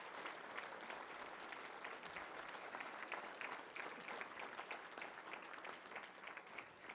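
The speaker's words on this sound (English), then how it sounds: "let's give these guys a round of applause" Steady applause from a crowd at a Little Rock touchdown club meeting, many hands clapping at an even level throughout with no pauses.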